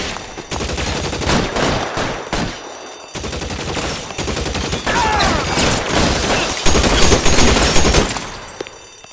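Suppression gunfire in the video game L.A. Noire: loud, dense bursts of rapid shots fire almost continuously, with brief pauses between volleys.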